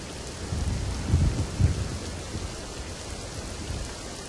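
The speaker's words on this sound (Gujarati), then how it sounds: "તો સુરત જિલ્લામાં અવિરત ધોધમાર વરસાદ છે." Heavy, continuous rain pours down over Surat district in Gujarat, a dense steady hiss joined by low rolling thunder rumbles early on.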